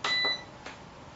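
A moisture analyzer gives a short electronic beep as its heating cycle begins, a crisp tone followed by a faint second click in a quiet room.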